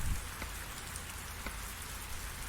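Steady, dense rain patters on a truck during a thunderstorm in American Truck Simulator, a soft continuous hiss of drops with no voices.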